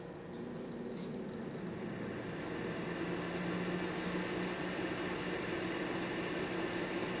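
A Lasko 754200 ceramic heater running with a steady, close whoosh of fan-driven airflow and a low motor hum. It rises slightly in level partway through, with a couple of faint ticks early on.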